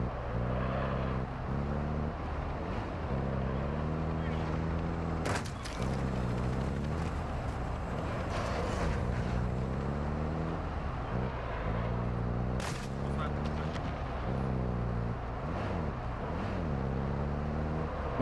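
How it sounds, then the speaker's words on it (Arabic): Enemy drone in Call of Duty Warzone 2.0 buzzing as a steady mechanical drone with wavering pitch, joined by louder swells and a few sharp bursts throughout. "we have a drone"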